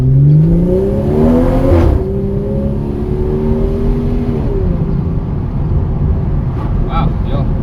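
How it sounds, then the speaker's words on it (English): A BMW M240i engine revs up hard under acceleration, its tone climbing and falling through gear changes, with sharp exhaust pops cracking between pulls from inside the cabin. "I can't get rid of how much pops and bangs this car makes"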